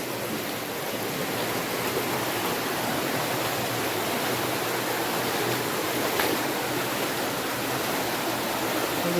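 Forest stream water flowing on the forest road to Mamalakandam, a continuous, even rush of moving water close by, with no voices over it.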